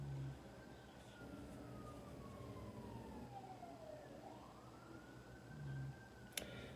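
A siren wails outside at a distance, its pitch sliding slowly down and then rising again, steady and moderately faint under a low background rumble, with a brief sharp click near the end.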